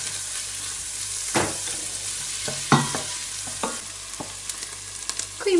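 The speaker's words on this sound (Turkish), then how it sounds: "Doğradığımız soğanları koyup rengi hafif dönene kadar kavuralım." Chopped onions sauté in a pan while a spoon stirs them, giving a steady close sizzle broken by several distinct scraping and clinking strokes.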